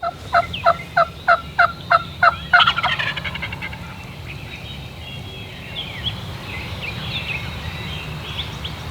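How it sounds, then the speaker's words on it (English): A wild turkey gobbles in a rapid burst of loud, rattling calls in an early-morning Pennsylvania field, then fades to quiet outdoor ambience with faint distant birdsong. "there is a turkey out in the field"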